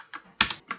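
Quick keyboard shortcut (Ctrl+Shift+P) pressed on a computer keyboard while coding a ReactJS project: three close, crisp key clicks, the middle one loudest, with no talking.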